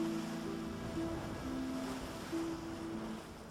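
Ocean surf washing onto a sandy seashore, a steady broad wash of breaking waves with a faint tonal hum running through it, continuous and moderately loud with no voices.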